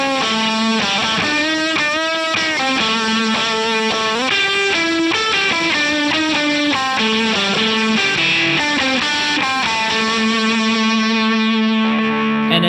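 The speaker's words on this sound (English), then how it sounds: "this is sort of a more traditional fuzz sound" Old Blood Noise Pardner guitar pedal set to a traditional fuzz tone, a loud, saturated electric guitar phrase of sustained and shifting notes played alone, with no talking.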